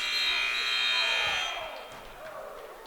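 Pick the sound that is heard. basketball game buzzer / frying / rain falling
basketball game buzzer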